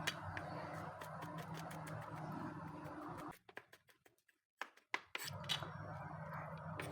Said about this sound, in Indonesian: Geprek 1 siung bawang putih, lalu diiris-iris atau dicincang kasar.